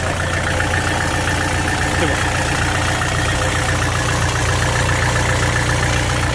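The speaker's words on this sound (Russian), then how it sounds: "4-цилиндровый наш двигатель." Kubota RX-501 excavator with a four-cylinder engine idling close by, a steady low rumbling drone throughout, with a brief spoken word near the start.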